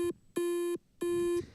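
Electronic beeps from the NES Golf soundtrack: three buzzy square-wave tones, each holding steady for a few tenths of a second with short gaps between, loud and close, with no voices.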